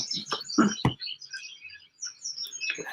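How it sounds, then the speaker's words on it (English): Small birds chirp and tweet outdoors in the morning, a scatter of quick calls and short bursts at moderate distance with quiet gaps between them. "I've sat out here with the birds."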